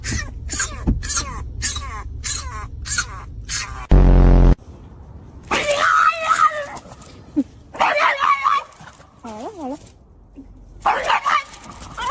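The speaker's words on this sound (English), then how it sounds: "I love when they first learn to bark, or when they first bark when they're puppies" Puppies bark in short high yips and whimpers, several bursts close by, with a brief loud thump partway through and a person talking between the barks.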